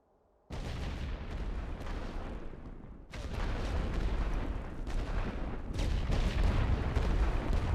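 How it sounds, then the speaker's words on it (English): An artillery barrage in the World War I strategy game The Great War: Western Front starts after a moment of quiet, then grows into a dense, rolling wall of booming gunfire and blasts that gets louder as it goes on. "now we get to see the artillery go"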